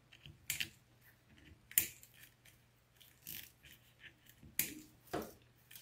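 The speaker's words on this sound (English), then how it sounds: "Okay, we're going to snip these off." Scissors snip off the ends of deco mesh on a fall mum wreath, giving a handful of sharp, close cuts spaced irregularly with quiet pauses between them.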